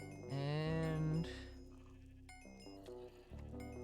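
Sheep bleats from a sheep minion in Hypixel Skyblock, a game with a sheep pet, come as one long wavering bleat followed by a few shorter, fainter bleats, clear and close with no talk.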